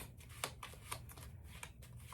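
Tarot cards being shuffled by hand: a quiet, steady run of soft riffling and slapping bursts, some sharper snaps standing out, with no voices.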